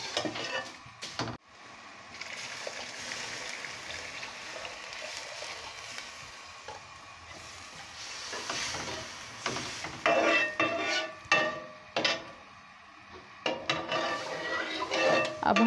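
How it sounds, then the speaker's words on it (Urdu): Colored vermicelli frying in a pan with constant sizzling while a spoon stirs and scrapes it, giving repeated clinks and scrapes against the pan, with no talk. "پھر اس طرح اگر ساتھ ہی برابر چمچ ہلاتے رہیں تاکہ برابر ہی ساری بھن جائیں"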